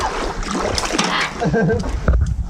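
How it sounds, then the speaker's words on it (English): Paddles splash and churn water as a boat is paddled upstream on a river, with close, continuous sloshing and wind under people talking. "We're about to start paddling to the first spot."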